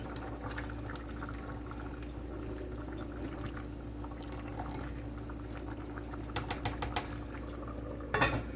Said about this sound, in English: Nice little rolling boil right there